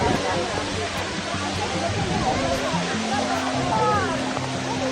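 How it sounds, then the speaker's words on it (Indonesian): Coban Rondo waterfall, a steady loud rush of falling water filling the air, with voices and chatter from nearby visitors mixed underneath. "Inilah yang namanya air terjun Coban Rondo."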